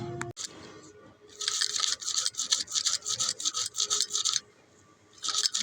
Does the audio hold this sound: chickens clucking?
no